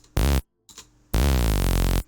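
Synthesized growl bass in two bursts, a short blast and then a longer sustained one, thick and buzzy with rich harmonics, separated by near silence.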